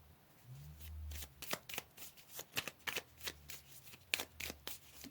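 Tarot cards shuffled by hand at close range, a quiet run of crisp riffling flicks and soft slaps in uneven bursts, with no talking.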